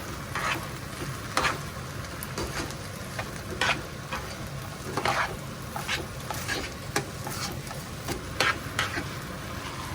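A spoon stirs a sauced dish in a hot pan, scraping and clicking in uneven strokes over a steady sizzle, close and fairly quiet.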